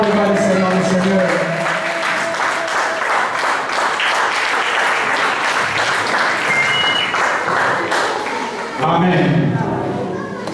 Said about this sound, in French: Acclamons très fort pour notre Dieu